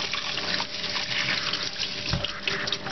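Water runs steadily from a tap while ground meat for Inegöl köfte is washed and drained, a continuous splashing rush with a brief low thump partway through.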